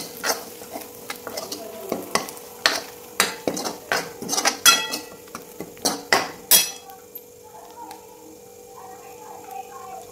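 Ground garlic, coconut and coriander paste sautéing in a pan, with a spoon scraping and stirring in repeated loud strokes over a soft sizzle; the stirring stops partway through and a quieter sizzle carries on alone.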